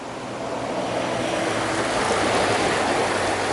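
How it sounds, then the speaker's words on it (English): Immense amounts of water rush down a mountainside beneath a small bridge in wet weather, a loud, dense, continuous roar with no breaks, close and unvarying. "So you can see just immense amounts of water that are coming down the mountain"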